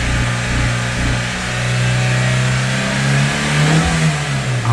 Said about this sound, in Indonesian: Sekarang kita lakukan pengegasan. Kita lihat dari ujung knalpotnya.